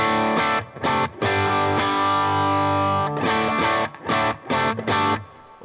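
An electric guitar plugged straight into an Ampero II Stomp multi-effects unit, with reverb, plays loud sustained distorted chords that are broken by a few quick choppy stops and ring out with long decay.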